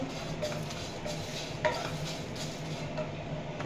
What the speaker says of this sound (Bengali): দেব মৌরি, এগুলোকে আমি একটু রোস্ট করে নেব।